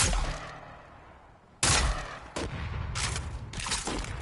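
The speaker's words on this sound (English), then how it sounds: "We got the proximity grenade. Let's try it out." Proximity grenade going off in Fortnite, a sudden loud blast followed by several further bursts and crackling booms over a few seconds, with no talk.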